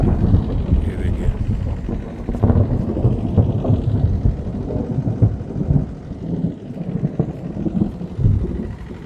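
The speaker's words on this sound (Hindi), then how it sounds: "अरे बाप रे बहुत तेज बिजली चमकी, अभी गरजेगा" Deep rolling thunder rumbles through a heavy storm with rain and gusting wind noise, loud and close, continuing steadily beneath an excited voice that speaks over it.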